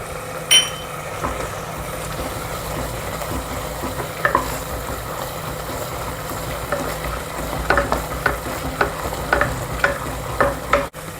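Chili powder is stirred into a frying prawn masala, producing a continuous sizzle with repeated spoon scrapes and light clinks against the pan, growing busier toward the end.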